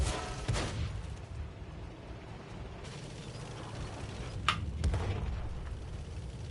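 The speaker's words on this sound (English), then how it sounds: "We have artillery on us right now. That was big boy shots." Artillery shells explode in the World of Tanks video game, with a couple of muffled booms and sharper cracks over a low rumbling battle din, fairly quiet overall, with no speech.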